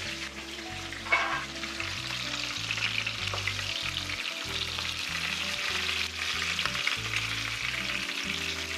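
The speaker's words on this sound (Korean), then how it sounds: "이렇게 해서 앞뒤로 4분 정도 구운 뒤에 바로 불을 꺼주세요." A sirloin steak sears in a hot pan with a steady, close sizzle and crackle, punctuated by a few sharper pops, and no talking.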